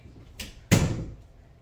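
A soft brush of movement followed by a solid thud as a door shuts nearby, then a short fading rattle.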